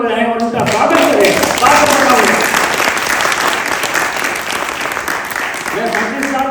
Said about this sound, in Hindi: आप सब लोग जोर से तालियां बजाएं और उनका स्वागत करें